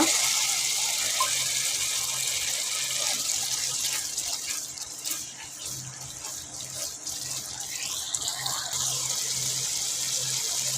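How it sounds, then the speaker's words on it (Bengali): Water pours steadily into a cooking pan of egg chutney for several seconds, a continuous splashing hiss with faint background hum and no talking. "আমি একটু পানি এক করে দিচ্ছি কষিয়ে নেওয়ার জন্য"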